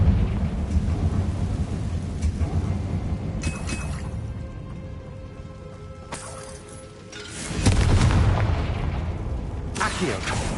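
Several booming blasts from the Confringo fire spell in Hogwarts Legacy erupt over a steady rushing ambience, with the heaviest burst near the end, followed by another.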